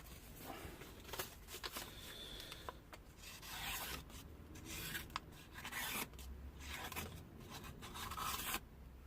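A Victorinox knife blade being sharpened and stropped, giving soft repeated rasping strokes close by in a steady back-and-forth rhythm at low volume.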